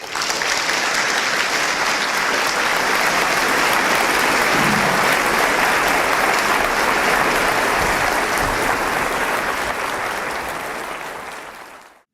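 Sustained applause from a debate audience greeting two speakers, a dense, steady clatter of clapping hands filling the room for about twelve seconds before tapering off at the end.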